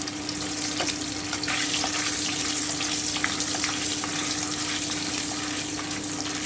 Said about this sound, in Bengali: এভাবে আমি পুরো পনিরটাকে ভেজে নেব